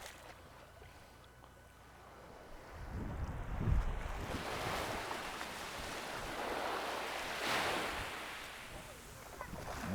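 Wind and surf at Friar's Bay beach on St. Maarten, with broad rushing wave noise swelling and easing under gusty wind buffeting the microphone. The sound is fairly faint and outdoors, with no clear voices.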